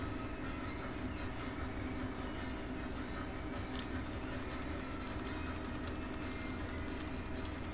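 A train rolls along rails in RAILROADS Online, a constant low rumble with rhythmic clicking and faint high metallic ticks entering midway, quiet and steady throughout.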